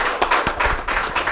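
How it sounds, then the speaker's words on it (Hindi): An audience claps for an honoured guest at a community event in Rajasthan, with sparse, loud hand claps in an irregular rhythm over a short burst. "आज के हमारे आइकॉन के लिए एक बार फिर से जोरदार तालियां"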